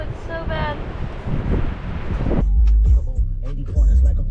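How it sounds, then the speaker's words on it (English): Strong wind in a Death Valley sandstorm roars and buffets the microphone in heavy low-pitched gusts, loud and close, while people talk over it. "Oh, it's so windy."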